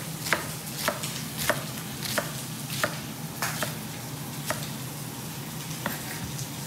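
Knife chopping through cabbage in thin slices on a cutting board, a steady series of about ten crisp, close cuts at an even rhythm over a low kitchen hum.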